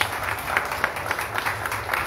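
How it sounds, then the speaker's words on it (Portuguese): Church congregation clapping in praise of Jesus during a worship service, a moderate, fairly even round of applause with faint rhythmic accents and a low hum underneath. "Uma salva de palmas para Jesus"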